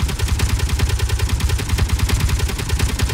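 Main Gatling guns on a ship in Space Engineers firing in a rapid, continuous stream of loud, evenly spaced shots, with no talking.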